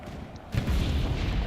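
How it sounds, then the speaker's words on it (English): A muffled boom in the WWII shooter game Enlisted, a single heavy explosion bursting in after a quieter rumbling stretch and leaving a low sustained roar. "After that last explosion."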